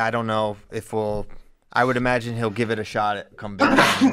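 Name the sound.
sneeze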